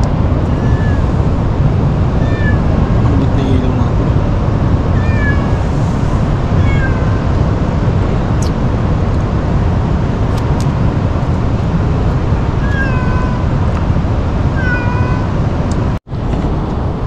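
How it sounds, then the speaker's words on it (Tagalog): A cat on a beach meows repeatedly, with short, fairly close calls spaced every second or two over steady surf and wind noise, and a brief thump near the end. "May pusa pa rito nag-aabang."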